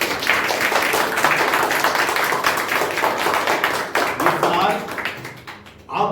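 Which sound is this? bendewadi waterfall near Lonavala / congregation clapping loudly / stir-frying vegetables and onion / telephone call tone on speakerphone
congregation clapping loudly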